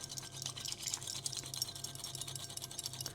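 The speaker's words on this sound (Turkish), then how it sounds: "biraz daha şu W şeklinde visklere başlıyorum" Matcha is whisked briskly in a W-shaped motion, giving a rapid, fine, rhythmic brushing and swishing that stays soft and close and continues steadily without speech.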